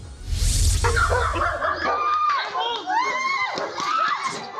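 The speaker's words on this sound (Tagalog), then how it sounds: "Sigaw ng pagmamakaawa ang maririnig sa bidyong yan." Screams and frantic pleading voices from a night stabbing incident over karaoke noise in General Trias, Cavite, loud and strained, with a brief low rumble early on and overlapping cries continuing throughout.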